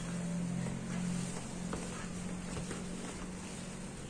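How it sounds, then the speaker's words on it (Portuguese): Strong wind gusting outdoors beside a kitchen work area as rain approaches, a continuous low rushing roar with a steady hum underneath, moderately loud. "Tá ventando bastante. Tá preparando pra chuva"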